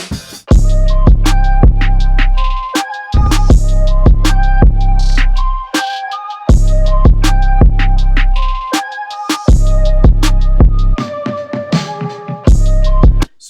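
A hybrid boom bap and trap beat plays loud and upfront, with heavy booming kicks, sharp snares and rapid trap hi-hats over a melodic loop, dropping out briefly in places before the groove returns.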